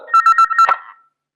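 A telephone rings in a short electronic burst of repeated tones, loud and close, then cuts off into silence.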